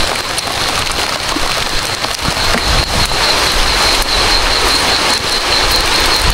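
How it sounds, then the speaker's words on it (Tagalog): Heavy rain pours down in a dense, steady hiss, loud and continuous, with no voices. "Ulan na yun."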